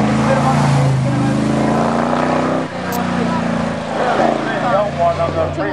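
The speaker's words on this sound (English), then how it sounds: "Yeah, Pete, it's a big Chevy engine, this one." A racing speedboat powered by a big Chevy engine at a reservoir speed event, its loud steady motor roar dominating throughout with a commentator talking over it.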